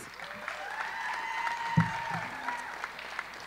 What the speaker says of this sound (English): let's give our contestants another big round of applause